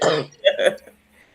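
Two or three quick, close throat-clearing coughs from a woman with a cold, loud at first and then tailing off into silence.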